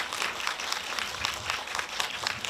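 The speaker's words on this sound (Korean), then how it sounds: "박수로 크게" An audience at a women's film festival cine-talk gives a warm round of applause, many hands clapping in a dense, even wash that carries on steadily from start to finish.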